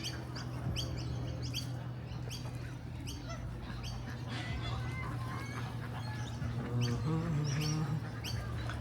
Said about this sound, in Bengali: অনেক হাঁস কবুতর সব ধরনের পাখি এখানে আপনারা দেখতে পাচ্ছেন